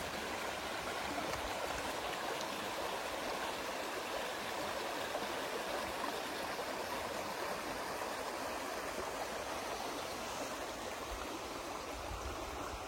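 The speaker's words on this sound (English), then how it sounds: "This creek has a considerable flow" A creek running with considerable flow in spring, before the greenery appears, makes a steady, close rushing and burbling that fills the whole stretch with no voices.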